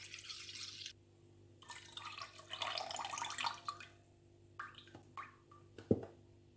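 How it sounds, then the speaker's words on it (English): Half a liter of milk is poured into a mixing bowl for waffle batter, making faint, splashy gurgling bursts that come and go, with a small plop near the end and no talk. "In this bowl, I'm going to be adding some milk"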